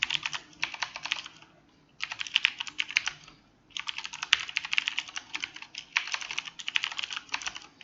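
Bursts of fast typing on a computer keyboard while code is written for a game's animation system, close and steady, in four runs separated by short pauses.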